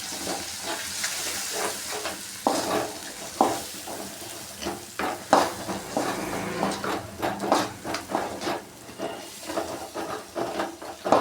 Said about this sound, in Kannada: ಸಾಂಬಾರು ಪುಡಿ ಹಾಕಿರೋದು ಸ್ವಲ್ಪ ಒಂದು 2 ನಿಮಿಷ ಎಣ್ಣೆ ಜೊತೆಲಿ ಫ್ರೈ ಆಗಿ ಈ ರೀತಿ ರೆಡಿ ಆಗುತ್ತೆ